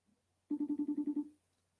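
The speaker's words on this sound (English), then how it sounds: "He ain't answering the phone, Smart Money." A telephone rings once in a quick burst of about eight rapid electronic pulses, clear and alone, then stops.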